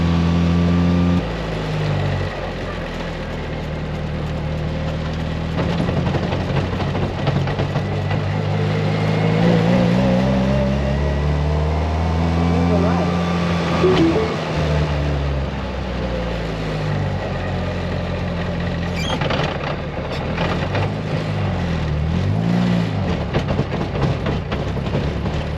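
A car drives through snowy weather with its engine droning steadily from inside the cabin, the pitch rising and falling with gentle accelerations amid a constant road rumble.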